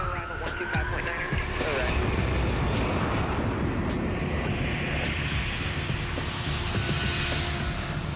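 A Lockheed C-5 heavy military cargo plane roars steadily on departure, its engines producing a loud, continuous broadband rumble with a whining tone layered over it, and no break in the sound.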